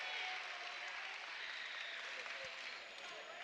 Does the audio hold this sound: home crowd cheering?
yes